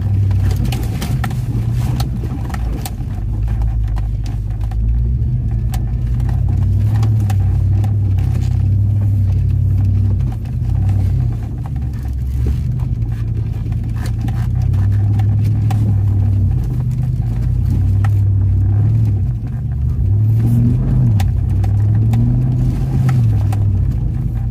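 A Cadillac all-wheel drive car's engine drones loudly and continuously, rising and falling in pitch as it revs and accelerates, with a heavy low rumble and no voices.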